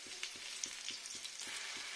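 Khoshla bora fritters frying in oil, a soft continuous sizzle with a regular pulsing tick underneath and scattered small pops, quiet and close with no voices.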